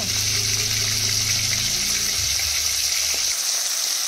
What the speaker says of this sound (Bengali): এইভাবে মাছগুলোকে লাল লাল করে আগে ভেজে নেব আমি।